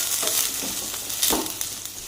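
Sliced okra and onion fry in hot oil, producing a short, close, steady sizzle with soft stirring scrapes.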